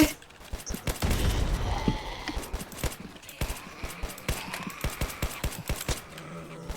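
Rapid bursts of gunfire in a zombie apocalypse video game crack repeatedly, close and sharp, in an uneven stream of shots over a busy electronic background.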